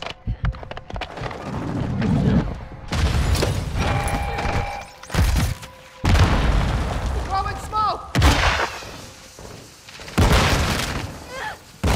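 Explosions and gunfire from a military video game's HQ capture match, including a deployed mine going off, with loud repeated booms and bursts packed across the span, plus radio-style callouts from players.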